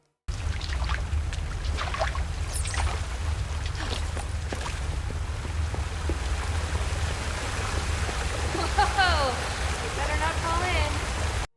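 In the souls-like RPG Asterigos: Curse of the Stars, a character splashes through water amid a steady, dense wash of game ambience and rushing water, with scattered sharper splashes and some chirping effects later.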